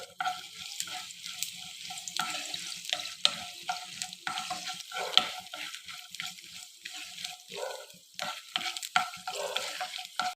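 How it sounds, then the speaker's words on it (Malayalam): Almonds frying in a pan for halva, giving a steady crackling sizzle with bursts of scraping and stirring throughout, close and continuous with no talk. "ബദാമാണ് വറുത്തെടുക്കാൻ പോണത്."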